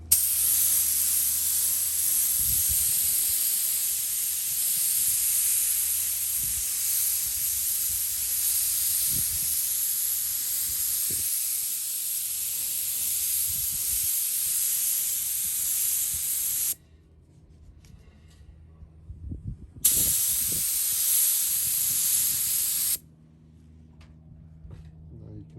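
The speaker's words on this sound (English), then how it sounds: "ready to put down coat number 2 of our Cobalt blue" Airbrush or spray can laying down a second coat of cobalt blue candy paint on a model Impala car body, a steady close hiss that runs for long stretches, cuts out briefly, then resumes, with soft handling noises between bursts.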